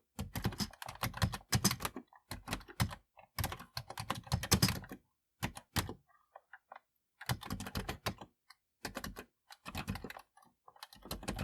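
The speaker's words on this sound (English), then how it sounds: "I'm having trouble typing now." Rapid clicking of keys on a computer keyboard comes in bursts separated by short pauses, close and crisp.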